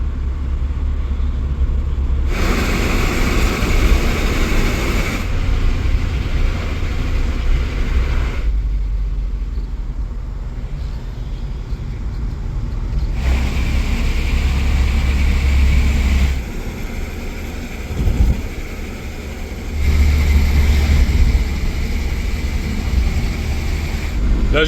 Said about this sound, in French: je vais tirer un peu le moteur parce que là je prends la grande montée ici là